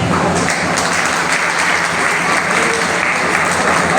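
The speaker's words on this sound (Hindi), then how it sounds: "एक व्यक्ति भी बिना ताली के नहीं रहेंगे, तालियों से तारीफ करेंगे" Sustained applause from a large audience at a patriotic speech, a dense, steady wash of many hands clapping at full volume throughout with no voices rising above it.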